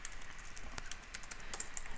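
Rapid clicky typing on a computer keyboard, a quick uneven run of light key taps close to the mic against a faint steady background hum, with no speech.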